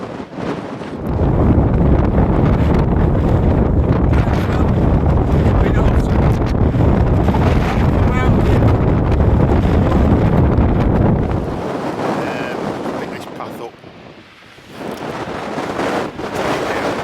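Strong wind on a Lake District fell top roars and buffets against the microphone in a dense, continuous rush, easing somewhat toward the end before gusting up again.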